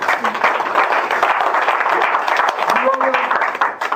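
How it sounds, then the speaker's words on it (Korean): Applause for committee members continues in the auditorium at the founding meeting of the Seoul Maritime Arbitration Association, a steady crowd clatter running under someone speaking over it. "박수 몇 번쯤 보내주실 수 있을 것 같아요"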